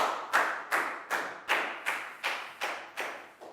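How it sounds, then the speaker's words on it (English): A classroom gives a student a round of applause: nine or ten evenly spaced, sharp claps like a slow rhythmic chant, each one decaying quickly, close and clear with no talking. "High five and a big round of applause for Pak Bung."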